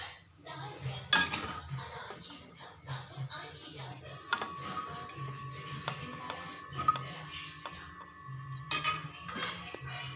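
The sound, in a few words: serving upma from the pan into a dish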